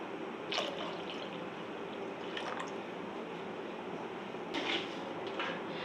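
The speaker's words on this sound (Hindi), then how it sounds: "पानी डालूँगी 1 गिलास पहले" Water is poured from a glass into a pot of soaked rice for matar pulao, heard as a soft, steady splashing and dribbling with a few brighter splashes, fairly faint and alone without talk.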